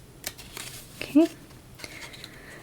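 Scissors snip several times in quick succession, close and fairly quiet, with a brief crinkle of paper partway through.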